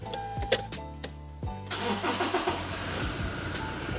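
A 2018 Toyota Fortuner 2.4G diesel is started: starter cranking with a few clicks, then the engine catches and settles into a steady, moderately loud diesel idle.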